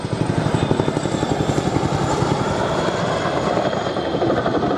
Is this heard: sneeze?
no